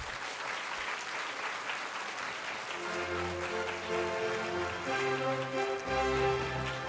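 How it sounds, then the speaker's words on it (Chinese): Warm, steady applause from a crowd welcoming the guests of honour at the opening ceremony of a concert hall and TV station. Music swells in beneath the clapping partway through and continues to the end. "请大家以热烈的掌声欢迎我们的主礼团嘉宾入场"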